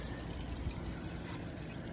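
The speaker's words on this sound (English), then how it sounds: "Cause like water was like still coming out." Tap water running and trickling inside a trailer, a steady low wash of flowing water that carries on alone throughout.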